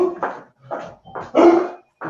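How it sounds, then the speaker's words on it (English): A dog barks several times during a regional health board meeting. The barks come in loud, close bursts with short pauses between them, plus a small whimpering yip, and no one talks over them. "it's not my dog."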